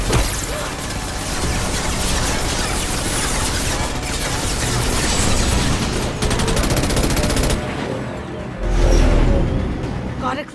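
Sustained rapid gunfire from a Mass Effect 2 Legendary Edition firefight, dense overlapping bursts and mechanical clatter running loud and close throughout, with a heavier blast near the end and voices faintly mixed in.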